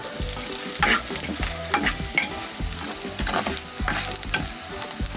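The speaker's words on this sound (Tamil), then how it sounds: "வெங்காயம் வந்து நல்லா பொன்னிறமாக வதங்கின பிறகு கொஞ்சம் கருவேப்பிலை போட்டோம்னா" Onions and curry leaves sautéing in a pan for a Jaffna-style mango curry, a steady close sizzle with frequent scraping stirs of the spoon throughout, no voices.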